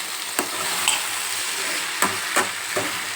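Potato filling with sugar and coriander stirred in a hot pan, a steady sizzle punctuated by four or five sharp spoon scrapes against the metal, close and clear.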